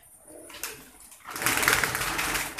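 Pigeons at a breeding loft in Khurrianwala, Faisalabad, Pakistan make a rising rush of wing flutter and movement, growing louder midway and continuing as a dense, close wash of noise.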